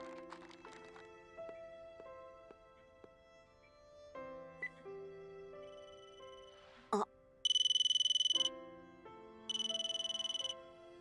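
A mobile phone ringtone plays a melodic sequence of electronic notes, followed by loud, shrill repeated bursts of ringing, fairly close and clear.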